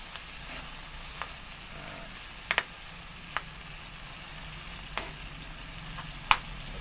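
Squid adobo cooking in a pan, with a constant low sizzle broken by scattered sharp pops and crackles over several seconds.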